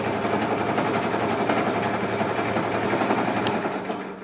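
A homemade paint shaker runs its motor with a steady, close, buzzing whir and rapid rhythmic vibration, holding constant before easing slightly at the end.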